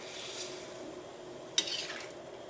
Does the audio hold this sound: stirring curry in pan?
yes